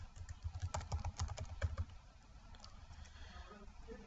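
Fingers tap out a password on a computer keyboard, a quick burst of close, light key clicks in an irregular rhythm that trails off into quiet room hum.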